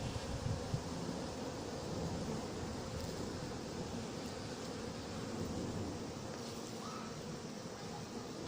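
Hornets flying around an anti-hornet mesh tent set up near beehives outdoors, a continuous low buzzing drone under faint wind, steady and fairly quiet throughout.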